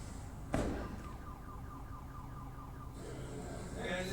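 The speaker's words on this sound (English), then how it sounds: "That sounded like a gunshot and a car alarm." A car alarm going off for several seconds, a repeating electronic wail held at steady loudness, with a sharp bang-like burst near the start.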